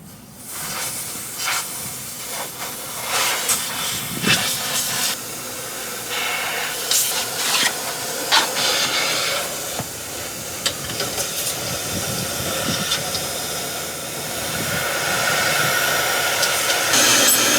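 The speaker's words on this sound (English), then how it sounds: "they say you want to tighten it until the air leak stops" Air hissing steadily from a tire valve while a pressure equalization hose is threaded on at dual rear tires of a Class A diesel pusher, continuous close leak noise with small clicks and rustles over it.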